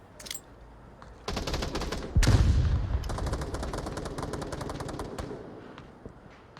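Gunshots in the VR shooter Onward, played as a competitive team match: a heavy blast, then rapid automatic bursts of rifle and machine-gun fire rattling loud and close before trailing into scattered single shots.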